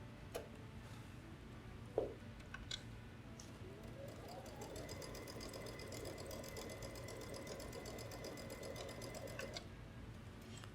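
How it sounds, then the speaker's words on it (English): A sewing machine stitches the pinned side seams of a tote bag, a steady mechanical whir with fine rapid ticking running nearly continuously after a few brief clicks. "you are now ready to sew"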